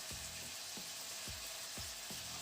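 Green chillies drop into a frying pan of potatoes and radish for a raw tamarind sour chutney, giving a steady, bright sizzle with soft low knocks from the spoon repeating about every half second.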